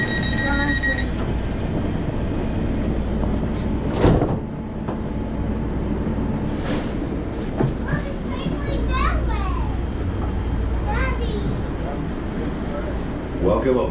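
A Metro E-Line subway train rides along with a steady low rumble and occasional rattles, while children chatter and play loudly nearby throughout.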